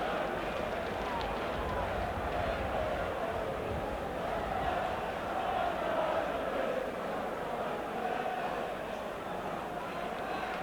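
Football crowd at a Spurs v Newcastle match just after a goal, a steady roar of many voices filling the stadium, dense and continuous throughout without letting up.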